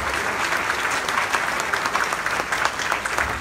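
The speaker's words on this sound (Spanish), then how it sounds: "Brindémonos también un caluroso y afectuoso aplauso a este secretario." Warm audience applause at a university graduation ceremony, a dense, even wash of many hands clapping steadily throughout, moderately loud and with no voices over it.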